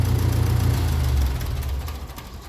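A 1957 Ferguson 35 tractor with a TVO engine idles close by, a steady low chugging rumble that eases slightly partway through, with no talking.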